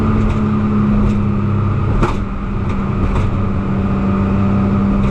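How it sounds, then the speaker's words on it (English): A loud Subaru Impreza engine, swapped to an EZ30R flat-six, drones steadily with a deep exhaust rumble, holding a constant pitch with only slight swells and no talking. "And that was the exhaust."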